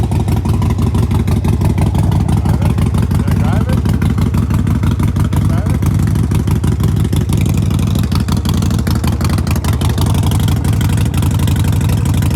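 A 2021 Toyota Tacoma TRD Sport 4x4 engine idles steadily and close by, a constant low rumble with a faint clattering pulse throughout, under occasional voices.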